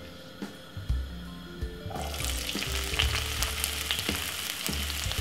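Seasoning and vegetables with ginger fry in a medium frying pan on the stove, a steady sizzle that grows louder and denser partway through, with occasional clinks and stirring noises and no talking.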